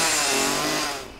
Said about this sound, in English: Let the chainsaw begin.